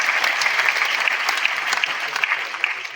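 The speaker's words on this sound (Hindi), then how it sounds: "तालियां" A crowd claps steadily, a dense wash of applause that holds for the whole moment without voices over it.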